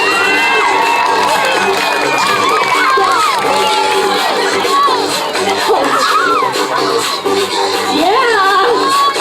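Loud crowd at a Marvelous Mutts dog show in Dubois, PA, cheering continuously for a running dog, with children shouting and whooping throughout, dense and close.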